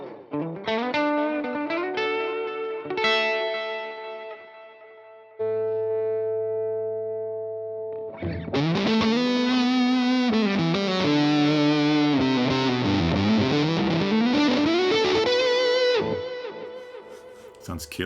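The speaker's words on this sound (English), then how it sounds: "Let's put some delay there. I like that tape echo." An electric guitar runs through Guitar Rig 6 fuzz and tape echo, playing distorted chords and sustained notes with echoing repeats, a pause of ringing tones, then a loud dense strummed passage.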